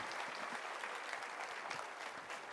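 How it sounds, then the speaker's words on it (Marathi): A crowd at a live event breaks into steady, full applause, a dense wash of clapping that holds evenly throughout without a break. "परत एकदा जोरदार टाळ्या."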